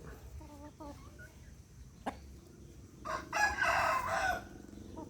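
A free-ranging flock of Burmese gamecock chickens, with a few short clucks, a sharp click, then a loud drawn-out rooster crow, all over low background noise.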